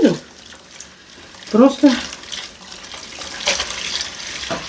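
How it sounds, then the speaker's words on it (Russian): Hot water running from a tap into a sink while cleaning, a steady close splashing stream under brief bursts of someone talking. "Сейчас наберу горячей воды."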